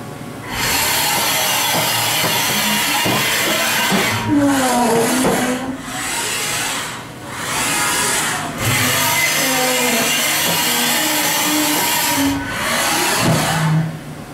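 A 2007 Haas VF-5/50XT CNC vertical machining center moves its axes at full rapid. Servo whines sweep up and down in repeated bursts, separated by short pauses, close and fairly loud.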